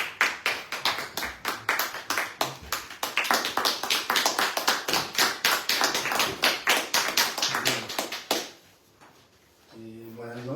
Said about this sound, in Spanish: Fuerte aplauso para el compañero Carlos.